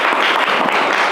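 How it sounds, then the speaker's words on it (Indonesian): Classroom applause for a student, a dense steady patter of many hands clapping at once, loud and continuous throughout. "Tepuk tangan lagi untuk Yogi."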